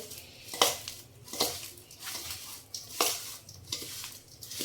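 Mango pieces for mixed achar are tossed with spices in a metal pot, giving a series of clanking, scraping knocks of a spoon against the pot in an uneven rhythm, close and moderately loud, with no talking.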